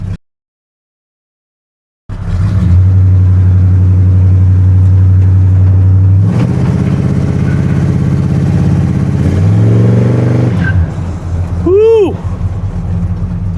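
A 1986 Chevrolet C10 truck engine fires up loud and close, idling with a steady low drone, then revving and accelerating as tires chirp, with a voice speaking briefly over the engine.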